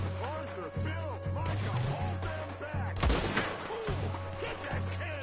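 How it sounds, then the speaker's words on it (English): Gunfire rattles through a Red Dead Redemption 2 firefight on the island of Guarma, with repeated sharp shots and a denser burst midway amid game ambience and someone talking. "Dude, who is shooting this?"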